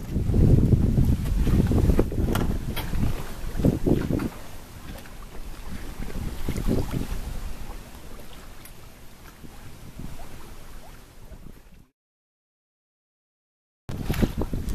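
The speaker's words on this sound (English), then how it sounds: "Close to shore, the waters of the Sound are still fairly flat, and the wind is relatively gentle." A sailboat moves close to shore on the flat waters of the Sound, with gentle wind buffeting the microphone and soft water washing along the hull. It is louder at the start, fades gradually, then cuts to silence before resuming briefly.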